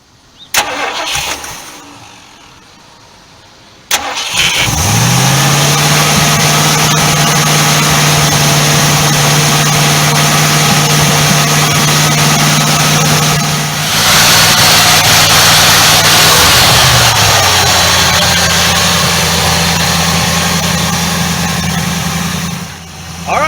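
An engine fitted with new 8mm spark plug wires cranks and catches after a few seconds of quiet, then runs loud and steady, its pitch shifting briefly midway before settling back into a smooth idle.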